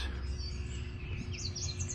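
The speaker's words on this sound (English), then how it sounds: "It's natural that to hear this many birds." Many small birds chirping along a residential street, a steady chorus of faint, quick tweets over low background hum, with no talk.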